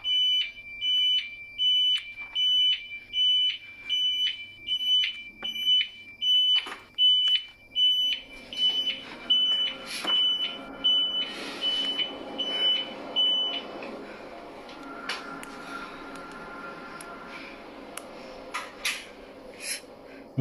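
An alarm in an empty room beeps loudly in a fast, steady repeating pattern and keeps going, later joined by scattered clatter and noise while the beeping continues.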